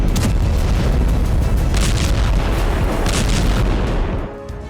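Bomb explosions from an Israeli airstrike in Lebanon, heard as a loud, continuous, rumbling roar of overlapping blasts that holds steady for several seconds before easing off at the end.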